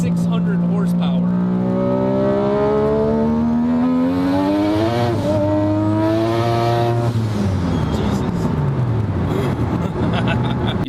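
A turbocharged car engine making 600 horsepower, running on a 15 psi wastegate spring, revs loud and close with a rising, shifting drone that climbs and then drops back, sounding throughout without pause.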